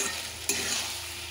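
Chicken frying on high heat with roasted spices and coriander stems, a loud, steady sizzle close by, broken once by a sharp stirring scrape, with no talking.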